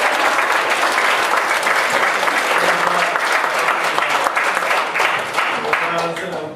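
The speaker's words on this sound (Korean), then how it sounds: "우리 목사님 나오실 때 할렐루야 하면서 우리 감사의 박수도 환영하겠습니다" Church congregation applauding as the pastor comes out, a dense sustained round of clapping from a large crowd filling the whole stretch, with faint voices mixed in.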